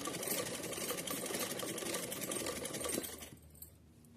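A sewing machine stitches a seam across green fabric for a doll's dress, its motor whirring in a fast, even rhythm up close for about three seconds before stopping abruptly.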